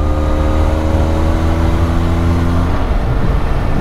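Benelli 502 C motorcycle with a 500cc engine revving, a loud close droning whine whose pitch sags and then breaks into a rough, broadband roar.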